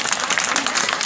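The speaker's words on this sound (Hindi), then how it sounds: "आप इनके लिए जोरदार तालियां बजा दें।" An audience claps for a children's performance in a brief, dense burst of applause, loud and continuous.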